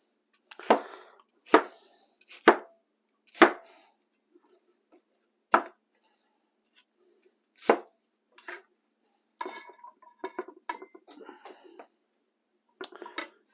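Onion being chopped on a cutting board for a simple stir fry: about eight sharp, separate knife strikes with uneven gaps, close and clear, followed by softer scraping and handling noises.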